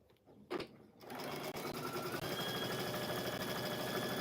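A sewing machine stitches quilt blocks, starting after a brief tap and then running steadily as a fast, even mechanical whir with rhythmic needle clatter, close and fairly quiet.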